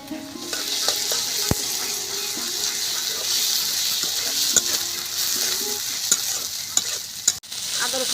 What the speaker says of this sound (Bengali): কাতল মাছের মাথাটা কেটে নিয়েছি, কেটে ভালো করে ধুয়ে তারপরে হলুদ মরিচ দিয়ে মাখিয়ে নিয়েছি। তো আমি এখন ভেজে নেব